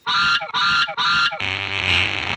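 A goose honks three times in quick loud bursts, then lets out a longer, harsher drawn-out honk close by.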